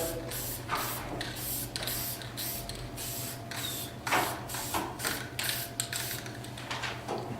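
Black touch-up spray paint is applied to wrought iron in short, close hissing bursts of irregular length, with a can rattle and faint clicks between sprays over a low background hum.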